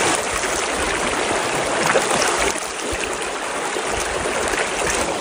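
Clean river stream flowing past up close, a loud, unbroken rushing and gurgling with small splashes and no voices.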